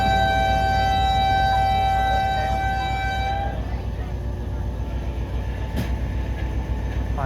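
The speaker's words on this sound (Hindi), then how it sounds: "और अब हमारी ट्रेन रवाना हो रही है मार्शलिंग यार्ड से।" A 151UP Shah Latif passenger train pulls out of a marshalling yard, a steady loud low rumble of rolling wagons with a long sustained horn tone for the first few seconds, then continuing rumble and a brief squeal near the end.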